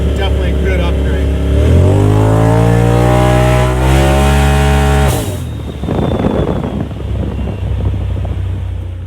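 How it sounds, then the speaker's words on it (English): A 2019 Polaris RZR Turbo S XP4 with an ECU flash and an aftermarket exhaust, its valve open, revs up loud and close, holds high, then drops off sharply into rough rumbling idle and wind buffeting. "The exhaust valve's open, it'll definitely draw some serious attention"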